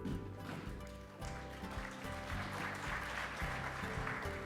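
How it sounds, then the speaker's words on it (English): Audience applause at a Hall of Fame induction ceremony in Brooklyn, a faint, continuous patter of clapping over a low rumbling backdrop, steady for the whole stretch. "You could still applause."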